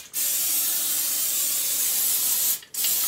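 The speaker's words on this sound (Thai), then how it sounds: "ฉีดสเปรย์ไปก่อนนะคะไม่ให้มันติดนะคะ" Cooking oil spray is sprayed onto a baking tray before baking spring rolls: one long, close, steady hiss lasting over two seconds, then a brief second spurt.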